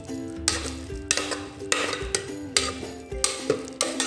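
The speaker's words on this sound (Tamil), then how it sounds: "இப்போ பாசிப்பருப்பை நல்லா மசிச்சுக்க போகிறோம்" Cooked moong dal, split yellow lentils, being mashed in a pan with a spoon, giving repeated rhythmic scraping and clacking strokes about twice a second, close and clear with no talk.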